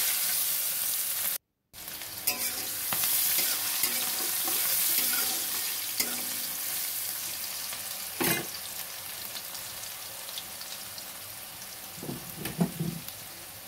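Onion fries in hot oil with bay leaf and dried chilli, giving a continuous sizzle with a short dropout near the start, a sharp clatter midway and scattered spatter and scraping toward the end.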